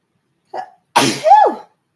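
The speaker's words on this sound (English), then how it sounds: "I think I'm going to have to sneeze again" A person sneezes once loudly and up close, a sharp breathy burst followed by a quick voiced tail, with a faint short sound just before it and otherwise silence.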